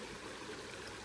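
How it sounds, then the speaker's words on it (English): Stream water flowing over a rock at a trailside spring rushes and gurgles in a steady, close, broadband wash, with no voices over it. "the water that's flowing over that rock"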